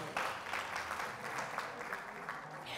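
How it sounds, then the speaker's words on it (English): A crowd claps steadily for a few seconds, a soft, somewhat distant patter of many hands. "Clap your hands to this guy for me."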